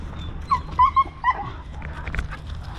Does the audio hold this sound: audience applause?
no